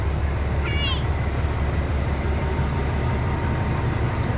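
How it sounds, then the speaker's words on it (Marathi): A train passes close by, producing a loud, continuous rumble and rattle that fills the whole stretch, with voices talking over the noise. "ट्रेन आली बघ."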